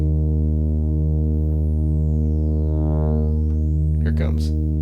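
A Behringer Grind synthesizer holds a loud, buzzing low drone rich in harmonics, with a resonant filter sweep whistling down and back up over it, then brief scratchy noise near the end.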